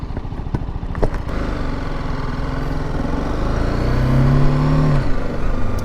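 A Royal Enfield Himalayan 450 motorcycle engine rumbles close up, revving briefly and settling as the bike slows to a stop, with wind noise over the steady thump of the single cylinder.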